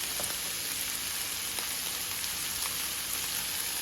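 Dirty rice frying in a pan, a steady loud hiss and crackle of sizzling oil heard close and unbroken, with scattered small pops and no talking.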